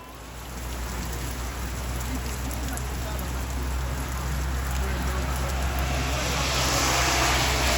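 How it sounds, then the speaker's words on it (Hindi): Heavy rain and strong wind roar steadily on a Ugandan road during a motorcycle journey, a dense continuous hiss that swells louder toward the end, with passing traffic faintly underneath. "इस बारिश में नहीं चलाया जाता, इतनी तेज़ हवा है यार।"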